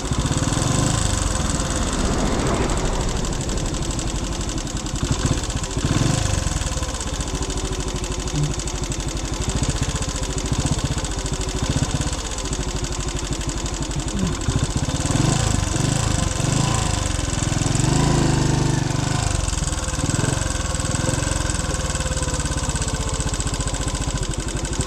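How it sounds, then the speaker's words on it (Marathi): A motorcycle engine runs steadily with a loud, continuous mid-pitched drone and slight revving throughout, close up, with occasional mechanical clatter and no clear talk. "गियर डाल के गाड़ी चालू करो"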